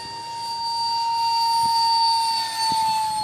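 A Windrider F-35 RC jet plane flies on a 5-cell battery, a thin sustained high-pitched whine of its motor passing at moderate distance, swelling slightly and steady throughout with no talk.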